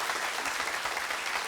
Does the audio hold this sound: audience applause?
yes